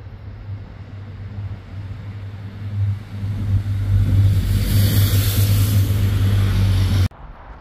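Cars pass on a motorway near the Royal Canal in Dublin, heard as a steady roar of traffic that swells to a louder rush of passing vehicles before cutting off abruptly.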